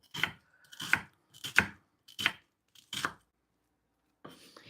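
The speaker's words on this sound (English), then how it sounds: "Gonna chop some onions up." Onions chopped with a knife for a vegan one-pot vegetable soup: five or six crisp, separate cuts with pauses between, close and clear in a quiet kitchen.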